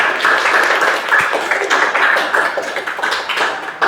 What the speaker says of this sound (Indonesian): Silakan tepuk tangan untuk diri kamu sendiri yang telah mencapai sampai saat ini.